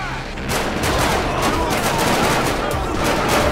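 A dense firefight rages in a GTA 5 zombie mod, with overlapping gunshots and rapid bursts crackling continuously at a fairly loud level and no pauses.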